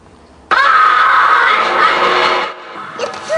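A child screams in one sustained, loud, high-pitched cry lasting about two seconds, then breaks off into a softer squeal.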